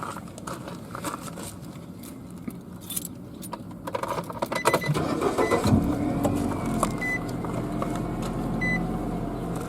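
Car engine started on request while a buyer looks over a car for sale, with keys jangling and small clicks and beeps before the engine catches midway and settles into a steady low idle to the end.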